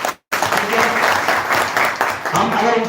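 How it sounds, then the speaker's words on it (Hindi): A crowd at a BJP Kisan Morcha rally in Harda bursts into loud, sustained clapping, dense and steady from near the start to the end. "उनके लिए जोरदार ताली बजाएं।"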